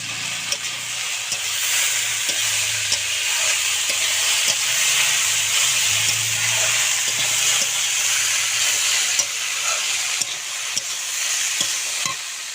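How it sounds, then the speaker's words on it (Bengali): Fried bitter gourd and eggplant stir-fried in a pan, a steady close sizzle and hiss running throughout with scattered scraping stirs, no talk. "ভেজে রাখা উচ্ছে আর বেগুনটাও দিয়ে দেব।"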